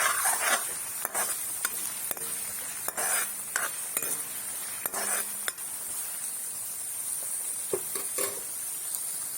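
Onion with ginger and garlic frying in a wok, a soft steady sizzle under repeated scraping and clinking strokes of a spatula stirring, fairly quiet and close.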